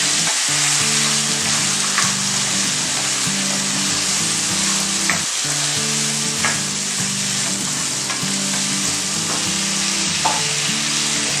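Mutton bones dropped into fried masala for a village-style gongura mutton curry sizzle steadily and loudly up close, with intermittent stirring scrapes and clinks, and no talking.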